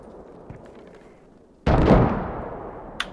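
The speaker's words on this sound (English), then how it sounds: "Oh, those mortars going." Mortar rounds exploding during a nighttime Arnhem battle in the Operation Market Garden video game, a sudden loud blast rolling into a long fading rumble, with a sharp crack just after.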